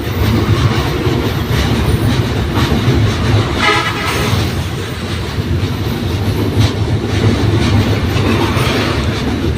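A train crosses the Jamuna rail bridge with a loud, close, steady rumble and rhythmic clatter of wheels on track, and a brief tonal sound rises near the middle.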